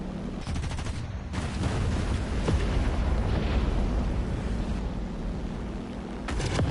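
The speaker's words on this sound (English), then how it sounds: "And those two planes just collided with each other." A loud, continuous roar of video game aircraft engines, two planes colliding and crashing, with bursts of 20mm cannon fire, dense and sustained throughout.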